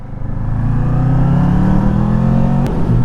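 Kawasaki Ninja 650 motorcycle engine, the 2020 model, holding a steady, loud rev near 3,000 RPM with a deep droning note that climbs slightly and then cuts off sharply near the end, close to the mic.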